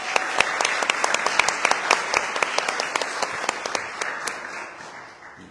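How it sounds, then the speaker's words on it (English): A conference audience gives a round of applause for a panelist at a talk on anti-colonial struggles, a loud burst of many hands with sharp individual claps standing out, gradually thinning and fading toward the end. "Please give her a round of applause."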